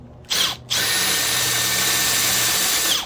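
A power drill bores through metal lubricated with WD-40 oil for engine mount work on a 4x4 Astro van, starting with a short burst, a brief pause, then a loud steady high-pitched grinding whine held close up, with no talking.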